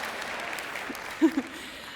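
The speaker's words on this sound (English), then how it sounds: "I hope I get claps every time" Light audience applause at a conference talk patters on in the background of a room while a couple of brief murmurs pop up near the end.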